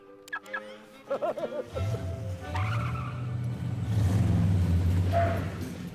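A cartoon-style car starts up and pulls away, its engine rising into a long rumbling roar with tire squeal, after a few short comic sound effects.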